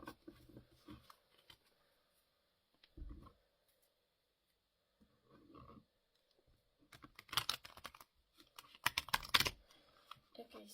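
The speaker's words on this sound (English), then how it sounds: "let's give the cards a shuffle for you" Tarot cards are shuffled close up in soft, irregular flurries of riffling and tapping, quiet at first and then building into denser bursts near the end.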